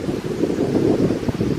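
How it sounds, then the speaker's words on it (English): Gusty wind buffets the microphone outdoors on a trail at an old colliery, a steady low rumbling rush lasting a moment with no voices. "It's a bit windy, it's a bit of a breezy day today."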